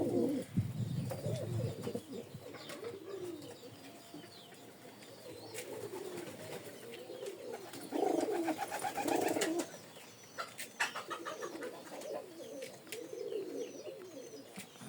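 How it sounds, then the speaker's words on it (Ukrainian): Young pigeons coo softly while warming in the sun after rain, low throaty murmurs rising and falling in several bursts, with faint chirps and occasional rustles nearby. "Там голубенятка гріються на сонечку."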